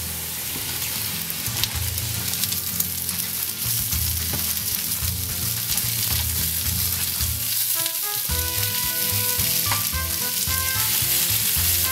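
Chorizo frying with browned onions in a pan for prawn and chorizo jambalaya. A loud, continuous crackling sizzle carries on alone, close up, with fine spattering pops and occasional stirring movements.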